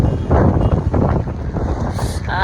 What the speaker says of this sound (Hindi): है कितनी अच्छी हवा चल रही है